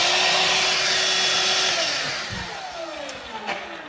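A Ryobi 18-Volt ONE+ 6-gallon cordless wet/dry shop vacuum with sand inside runs at a loud, steady whine, then winds down over the last couple of seconds with a few clunks.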